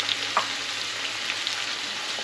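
Finely chopped tomatoes hitting a hot pan of half-cooked tindora for gravy, giving a steady, loud sizzle with a couple of small stirring clicks.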